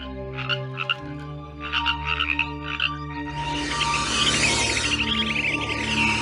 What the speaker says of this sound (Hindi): मेढक डर के मारे घबरा कर चिल्ला रहा है